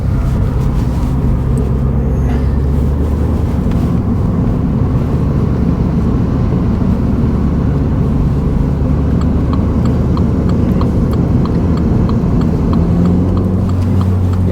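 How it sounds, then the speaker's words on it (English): A 2021 F56 Mini Cooper S with a muffler delete drones loudly and steadily throughout, with rapid clattering turbo chatter layered over the engine. "Turbo chatter then."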